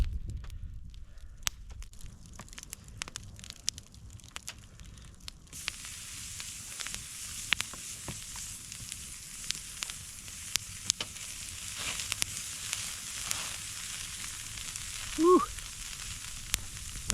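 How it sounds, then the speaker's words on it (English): Food sizzles over campfire coals on a winter camping trip, a steady crackling hiss that grows denser partway through, with scattered pops and a brief thump near the end, no voices. "Nice sizzle."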